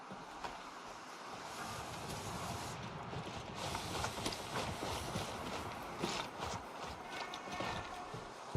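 Horse hooves clip-clopping in the video game Gray Zone Warfare, a rapid galloping patter at moderate distance over a steady rushing wind-like ambience.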